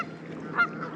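A single goose honk rings out briefly mid-clip over steady wind and water noise on a stormy lake, close and moderately loud.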